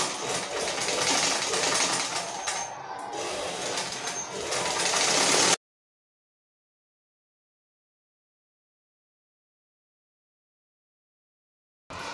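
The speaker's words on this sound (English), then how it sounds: "So I'm going to sew the crotch area with 1/2 inch." A sewing machine stitches the crotch seam of kids' trousers with a fast, steady close whir and rattle for about five seconds, then stops abruptly into silence before briefly starting again at the end.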